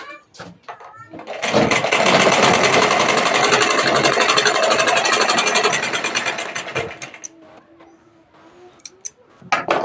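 A sewing machine stitches a blouse sleeve in a steady, loud, continuous whirring run of about five seconds, starting and stopping with brief quieter pauses and a few clicks at either end.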